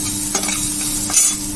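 Four green chilies frying with onions in a pan for crab gravy, a loud close sizzle with two quick stirring scrapes breaking through the steady crackle.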